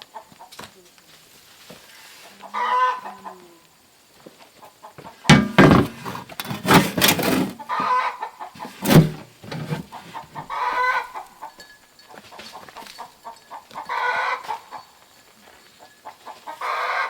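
Chickens clucking in bursts, close and fairly loud, with younger birds among them, scattered over a quiet yard-like background.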